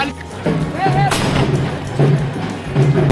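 Deep booming blasts from a cannon go off a few times, loud and close, amid a noisy festival crowd at the Ladzari fair, with voices in the background.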